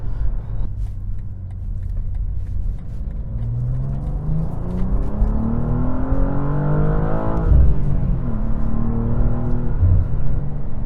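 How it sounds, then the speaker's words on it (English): A 2023 BMW M2 six-speed manual engine burbles and rumbles close by, revving up in a rising sweep, then dropping pitch as it upshifts and climbs again. "You get a little burble on the upshift, so this is pretty darn cool."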